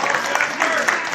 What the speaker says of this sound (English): Everyone give an applause for Jasper.